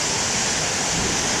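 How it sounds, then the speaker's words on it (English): Big ocean waves crash and churn in a steady, loud roar of surf, a dense continuous wash close to the listener with no voices over it. "I've been getting a lot of nice big waves here."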